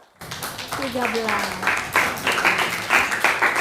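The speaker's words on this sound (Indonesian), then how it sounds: "Tepuk tangan buat Aldo dan kelompok" Students in a classroom clap for Aldo and his group, the clapping beginning under a teacher's voice and building into fuller rounds of applause.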